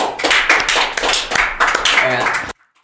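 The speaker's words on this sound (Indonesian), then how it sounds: "Boleh kasih aplaus." An audience at Festival Teluk Kendari in Kendari gives a short round of close, lively applause with dense overlapping claps, which then cuts off abruptly into near silence.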